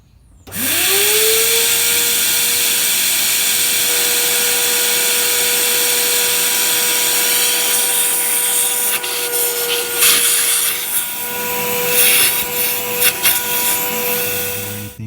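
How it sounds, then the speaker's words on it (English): A vacuum motor spins up and runs with a steady, loud whine while sucking through a diesel engine's glow plug hole, with a few scraping and knocking sounds toward the end. "now we're going to give it a vac and see if we can get this sucker out"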